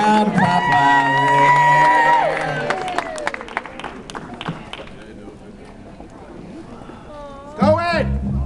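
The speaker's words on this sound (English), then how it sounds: "let's give him another round of applause" Guests at a wedding applaud and whoop for the father of the bride, a loud burst of clapping and cheering that tapers into scattered claps and chatter, with a brief shout near the end.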